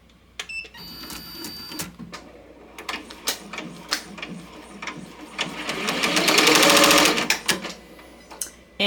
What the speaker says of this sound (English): So I'm going to hit start to do my tag down stitch.